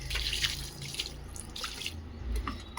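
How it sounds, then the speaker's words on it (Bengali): Clothes being hand-washed in soapy water, with continuous splashing and sloshing and a few louder surges of water, close by and without any talking. "তাকে সাবান জল দিয়ে ভালো করে ভিজিয়ে নিই, তারপরে কেচে নেব।"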